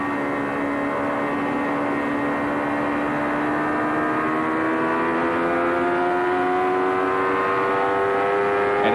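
A 1993 Indy car engine climbing from half to full throttle, a loud sustained high-pitched whine with harmonics rising steadily in pitch throughout, heard from onboard.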